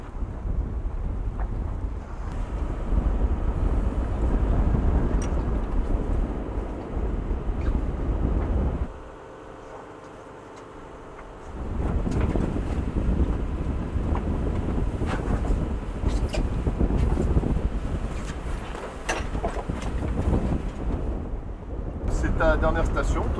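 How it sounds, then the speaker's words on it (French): Strong 30-knot wind buffets the microphone at sea in swell aboard the Tara Oceans polar expedition vessel, a loud continuous roar that briefly drops out, with voices faintly mixed in. "Il y a 30 nœuds de vent, il y a de la houle"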